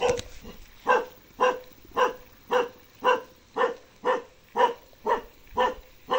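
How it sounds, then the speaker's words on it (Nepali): A dog barks in a steady run of about a dozen evenly spaced, fairly loud barks beside a cement road, with no one speaking over it. "कुकुर भुक्यो"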